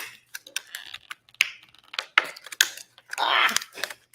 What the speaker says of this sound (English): Oh, this plastic is